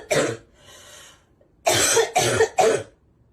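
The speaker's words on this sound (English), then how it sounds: "Are you really going to leave that cough in there" A few sharp coughs, one early and then three in quick succession, loud and close, with brief quiet between them.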